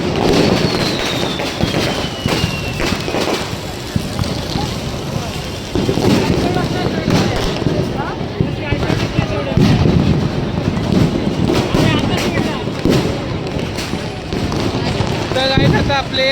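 Diwali firecrackers go off all around a park in Dadar during a Deepotsav celebration, a dense continuous crackle and boom with a whistling rocket early on, loud and unbroken, with voices faint underneath.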